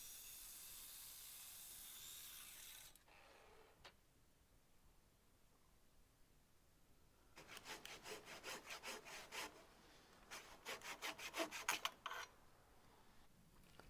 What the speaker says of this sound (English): I used a pull saw just to finish off the cuts.